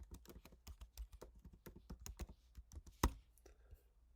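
An email address is typed on a computer keyboard in a quiet room: a steady, quick patter of soft key taps, then one louder key click near the end.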